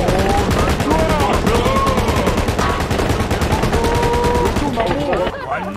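Sustained rapid automatic fire from an M249 machine gun in a video game, shot from atop a moving vehicle, a dense, loud unbroken rattle of shots with voices talking over it, easing off near the end.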